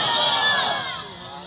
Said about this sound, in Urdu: جب خطیب صاحب جوش کرتے ہیں تو لوگ نعرے لگاتے ہیں